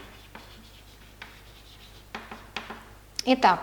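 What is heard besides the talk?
writing on a board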